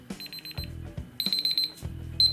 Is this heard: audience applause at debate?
no